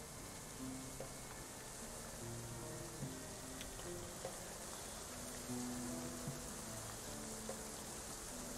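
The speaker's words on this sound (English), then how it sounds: "Oh, here comes the hailstorm." Hail pelts down steadily in the medieval colony-building game Going Medieval, a dense, even hiss of small impacts with no voices.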